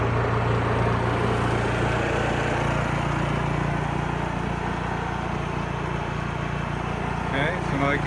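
A Honda EU3000is inverter generator runs with eco throttle switched off, holding a steady, loud, even engine drone throughout, with someone speaking over it.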